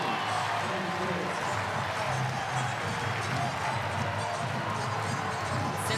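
A packed volleyball arena at a Pittsburgh home match roars in a continuous dense wash of crowd noise, loud and unbroken, with a commentator's voice faintly beneath.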